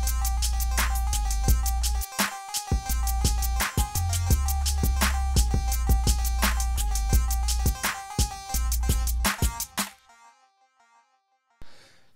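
A lead part played without input quantize plays back from a Studio One session over a steady drum beat, with notes landing unevenly off the grid. The sound is dense and loud for about ten seconds, then stops abruptly and is followed by a brief burst.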